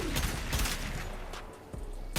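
Rapid Aklex Prime pistol fire in the Warframe video game, several loud sharp bursts in quick succession with a dense, continuous wash of game effects and explosions throughout.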